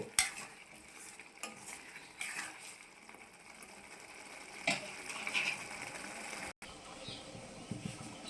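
Salt fish curry simmers in a pan, with a steady low bubbling sizzle and occasional scraping stirs from a spoon throughout, fairly close and quiet, broken by a brief silent gap.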